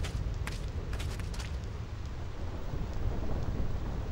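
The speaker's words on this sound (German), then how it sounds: "Dicht an den Türmen schlagen keine Blitze ein." Thunder and lightning on the Thunder Plains in the video game Final Fantasy X, with a continuous rumbling roar of storm and rain broken by sharp crackling lightning strikes.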